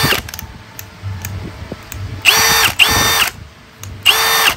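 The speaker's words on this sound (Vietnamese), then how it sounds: "Thử chức năng bắn vít sắt nha anh em." A Milwaukee 2804-20 cordless drill driving metal screws, with three loud close bursts of whining motor that start and stop sharply between quieter clicks and handling noise.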